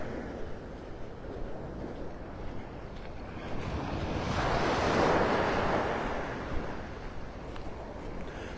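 Surf breaks along a beach at Pelican Bay in Naples, Florida, a constant wash of waves with wind noise that swells into a louder rolling crash midway before settling back.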